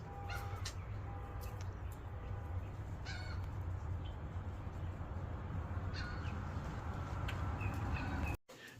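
Crows caw repeatedly in front of a house as they eat scattered rice, their calls coming in intermittent bursts over a steady outdoor background hum.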